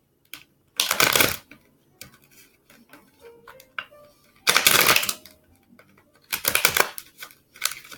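Tarot cards are riffle-shuffled close by in three crisp, rustling bursts, separated by quiet handling taps and faint movement.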